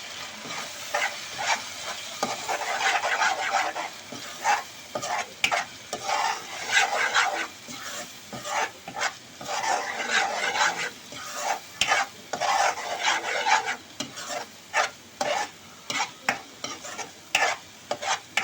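A spoon stirs fish masala gravy with chilli powder and garam masala in a pan, scraping in steady repeated strokes over a continuous sizzle, loud and close.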